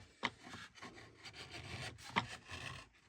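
A hand chisel shaves and chamfers the inner edge of a wooden seven-string lyre, giving soft rasping scrapes in short strokes with two sharp woody clicks, close and quiet, with no voices.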